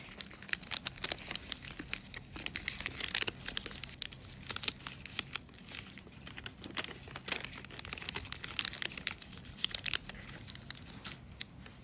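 Paper being folded for an origami spinning top, a steady run of close crinkling and sharp creasing snaps with no talk.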